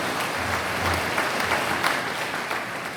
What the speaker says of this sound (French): on peut bien les applaudir